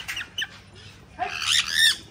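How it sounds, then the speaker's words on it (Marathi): Parrots at a bird spot squawk in bright, harsh bursts: a couple of short calls early, then a louder cluster of shrill squawks near the end, close by with no talking over them. "या दोरीवर पण आहे किती पोपट"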